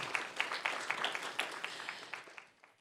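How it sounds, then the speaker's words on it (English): A small group claps at a county Board of Supervisors meeting, with quick rhythmic hand claps that gradually fade and die away within a few seconds. "So if we could give a round of applause to the YWCA"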